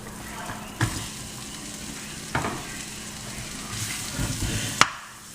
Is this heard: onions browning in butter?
yes